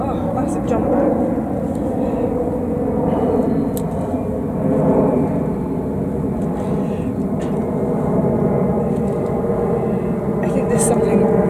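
A huge jumbo jet passes overhead above a kitchen garden. Its broad, continuous low roar drones on for over ten seconds while a person talks over it.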